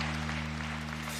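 Church congregation applauding during a worship service, steady clapping across the whole stretch over a strong low electrical hum, fairly faint and continuous.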